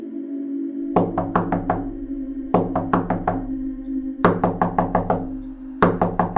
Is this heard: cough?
no